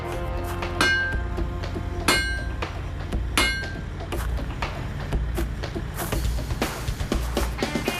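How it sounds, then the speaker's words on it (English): Sharp metallic strikes of a big hammer tightening railroad track clips ring out one after another at an uneven pace, clanking on steel with bright pinging overtones against a low outdoor rumble. "sometimes one might need just a little bit more tightening. It's best to do that with a big hammer."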